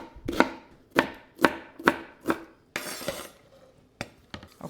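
Red cabbage chopped with a knife on a board for a chopped salad, a series of crisp, close thuds at a steady pace, then a brief rustle and a few lighter cuts.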